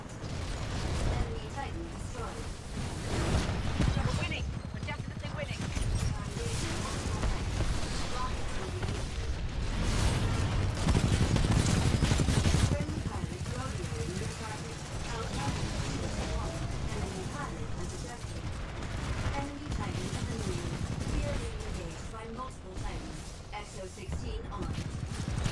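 Gunfire in Titanfall 2 crackles and booms in dense, continuous bursts mixed with mechanical clatter, loud and busy throughout, with a voice talking over parts of it.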